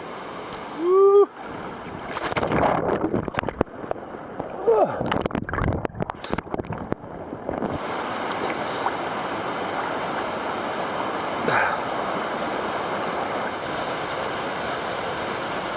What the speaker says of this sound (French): je vais passer la petite cascade là